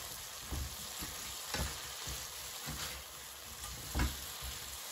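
Green beans fry in a frying pan with a steady sizzle, while a few soft scraping knocks from mixing and stirring break through at irregular intervals. No one speaks.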